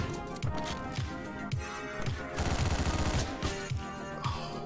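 Rapid gunfire from a newly picked-up gun in the video game Hotline Miami, close repeated bursts of shots in quick succession with a denser volley near the middle, under game music.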